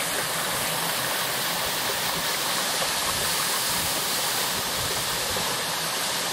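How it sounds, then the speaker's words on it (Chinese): The Longfeng waterfall in Zhongliao Township, Nantou, roars steadily, a dense, broadband rush of falling water that holds constant and loud throughout, with no voices. "中寮乡的龙凤瀑布，这是龙"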